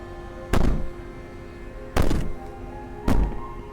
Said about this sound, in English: Bang on the door all you want